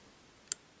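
A single sharp, faint metallic click from a pin setting while picking an MCM SCX lock cylinder, brief and isolated against quiet background.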